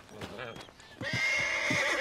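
A horse whinnies in Red Dead Redemption 2: after a second of quieter sounds and a muffled voice, a loud, agitated, sustained neigh rings out close by, with a few hoof clops mixed in.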